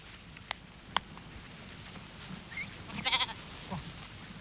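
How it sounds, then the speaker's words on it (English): Sheep on a farm being rounded up for shearing give a few faint, short bleats over quiet outdoor ambience, with a couple of sharp knocks beforehand. "From mid-June onwards, the sheep are rounded up for shearing."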